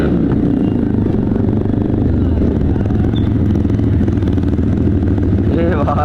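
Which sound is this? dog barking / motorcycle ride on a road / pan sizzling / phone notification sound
motorcycle ride on a road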